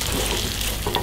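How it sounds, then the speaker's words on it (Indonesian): Food frying in a pan while being stirred, a loud, dense, close sizzle with brief scraping strokes throughout. "Aduk."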